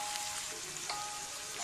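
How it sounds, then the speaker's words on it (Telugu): Chopped onions frying in oil in a pan for a restaurant-style okra masala curry, giving a steady, close sizzle with faint crackles and no talking. "ఉల్లిపాయని బాగా వేయించుకోవాలి."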